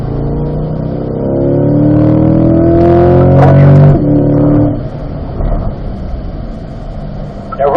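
A car accelerates on a race track during a lead-follow driving session: the engine swells into a loud roar that rises in pitch, then eases off and fades after a few seconds, with a voice speaking over it.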